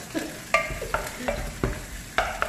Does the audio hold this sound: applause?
no